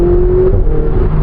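Ferrari 488 Spider turbocharged engine with a 7-speed dual-clutch gearbox, a loud close rev holding a steady pitch before a quick dip at a gear change, brief and alone.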